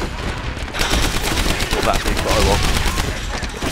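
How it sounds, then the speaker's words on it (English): Big explosion and ongoing blasts in the World War II shooter Medal of Honor Airborne, a dense, loud rumbling roar with crackling bursts like gunfire, sustained throughout without clear talk. "It's going to be a big explosion, I think."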